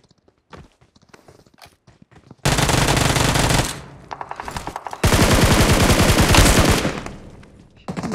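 In PUBG Mobile, footsteps tread softly before sustained automatic gunfire erupts in loud, dense bursts, broken by a few single shots and then another long, loud volley.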